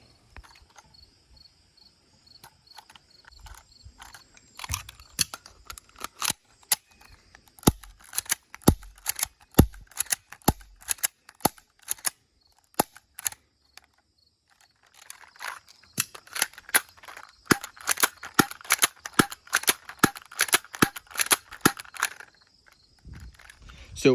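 A Walther PPQ airsoft pistol made by Elite Force fires .12 BBs in a series of sharp, snappy shots, some spaced and others in quick bursts, over a faint hiss.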